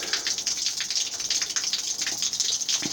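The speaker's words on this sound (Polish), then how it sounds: "próbujemy 10 litrów wypompować leje się" A small MAAS15 water pump pushing out about ten litres of water, a continuous hissing gush and splatter of flowing water, steady and close with no pauses.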